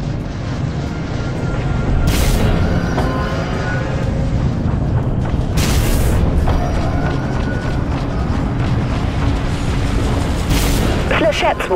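Heavy missile explosions slam into a warship in the Dreadnought space combat game, with booming blasts around 2, 6 and 11 seconds over a constant loud engine rumble and a game voice speaking.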